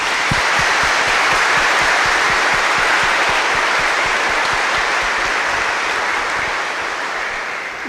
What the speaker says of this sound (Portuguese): queremos saudar a todos com uma bonita salva de palmas